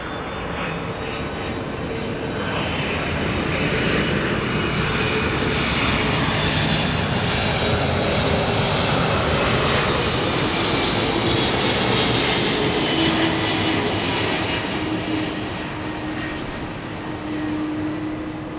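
A Boeing 767-300 jet airliner landing at LAX at night, a loud sustained engine roar that swells and holds before easing slightly, steady broadband rumble with no voices.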